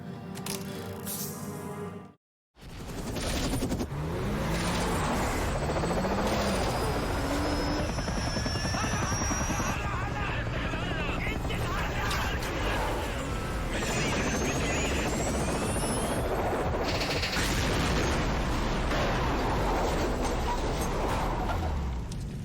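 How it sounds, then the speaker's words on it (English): A helicopter's steady rotor thrum fills the scene, loud and continuous, with a brief dropout near the start and faint whining tones above. "What's going on here is that we got the helicopter"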